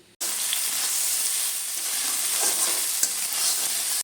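Vegetables stir-fried in a kadai, a steady loud broadband sizzle with scraping stirs running continuously from just after the start, no voices.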